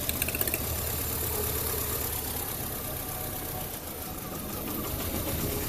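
A 2005 Mini Cooper engine idles with a misfire on cylinder 3, a close, steady mechanical hum marked by an uneven stumbling pulse and ticking, with no voices.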